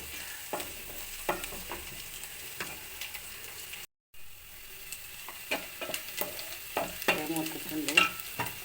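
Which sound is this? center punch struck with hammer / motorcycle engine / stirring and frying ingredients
stirring and frying ingredients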